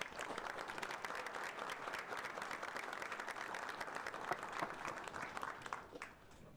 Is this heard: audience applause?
yes